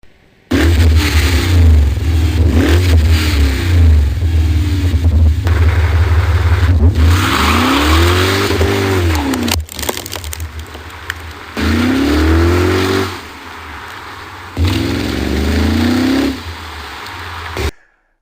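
A BMW engine revs hard through a new aftermarket exhaust, rising and falling in several loud bursts with brief idle pauses between, close to the microphone.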